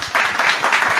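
A live session audience claps for a special guest, a short burst of steady, scattered hand claps from a modest crowd close to the microphone.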